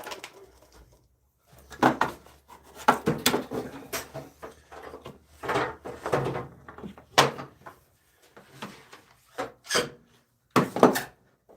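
Irregular rasping strokes of a tool chamfering a wooden planter edge, bursts of scraping with short pauses, close by, while pigeons or doves coo faintly in the background.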